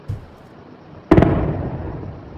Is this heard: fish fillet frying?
no